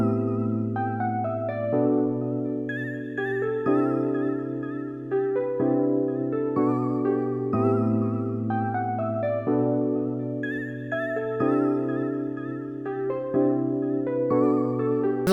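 Female vocal chop played as a keys preset from Loopmasters Chords, laid across the keyboard in key as chords with a melodic top line, steady and continuous with changes every couple of seconds.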